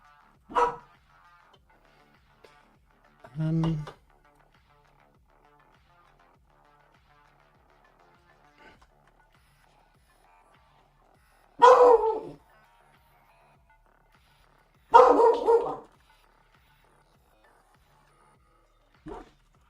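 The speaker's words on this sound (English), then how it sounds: "She's going to keep barking." A dog barks in four short separate bursts spread across a quiet stretch, with long silent gaps between the sharp yaps.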